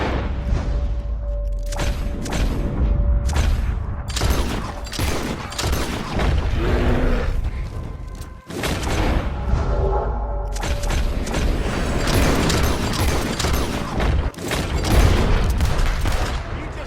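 Loud gunfire in Red Dead Redemption 2 during the mission Exit Pursued By A Bruised Ego: dense, continuous volleys with heavy booming thumps that barely let up.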